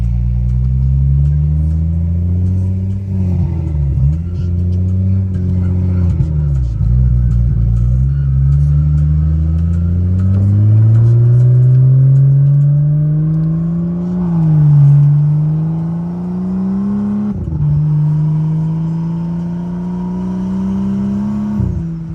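Big-turbo BMW F10 535i making over 600 wheel horsepower, driven at night: a loud, continuous engine drone rising and falling through gears, with steady climbing pulls, short dips at shifts and low rumble throughout, heard from inside the car.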